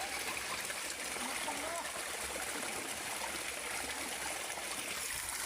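Stream water at a watershed source in Ulungan flows steadily, a continuous broadband rush and trickle throughout.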